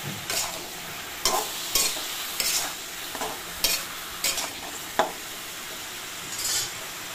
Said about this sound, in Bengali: একটু করে নাড়াচাড়া করে নেবো।